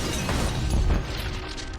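An explosion in the Star Wars: The Old Republic video game, a dense, loud roar of rumbling noise that swells around the middle and then settles into a steady, sustained wash without any talk.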